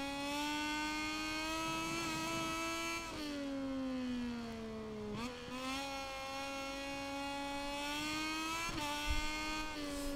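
A racing motorcycle engine in MotoGP 22 drones at high revs, its pitch rising through long pulls and dropping sharply at gear shifts, loud and continuous with no talk.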